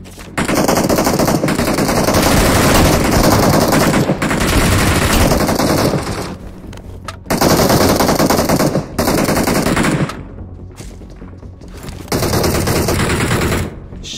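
A new gun fires in PUBG Mobile in loud, rapid automatic bursts, several long strings of shots broken by brief pauses. The shots are close and dominate the scene.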